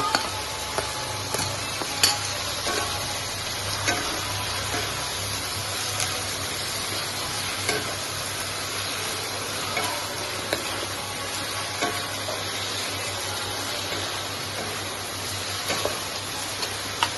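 Onions fry with ginger-garlic paste for a country chicken gravy and are stirred in the pan. The even background hiss runs throughout, broken by scattered scraping clicks from the spoon. No one talks.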